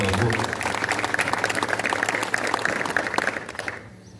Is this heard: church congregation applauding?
yes